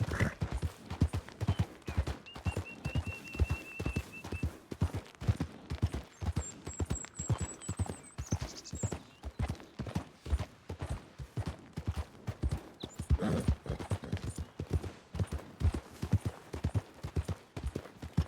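Horse hooves galloping in Red Dead Redemption 2: a fast, steady clip-clop rhythm of hoofbeats runs close and prominent throughout, with faint game ambience and a brief burst of distant gunfire-like noise.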